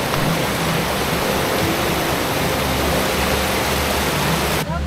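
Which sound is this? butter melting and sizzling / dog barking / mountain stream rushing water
mountain stream rushing water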